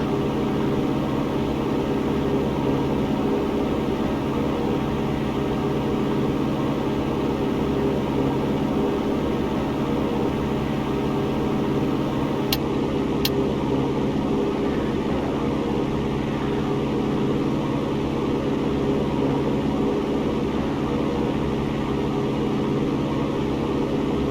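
Light aircraft piston engine in flight with RPMs brought up, a loud constant droning hum heard from inside the cockpit, with a couple of brief clicks partway through.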